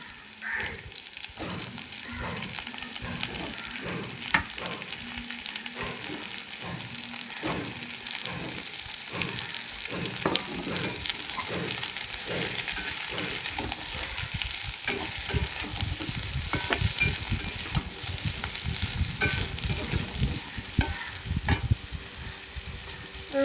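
Potato and ridge gourd pieces frying with browned onions in a pan, a continuous close sizzle broken by repeated clattering stirs of a utensil, with no voices.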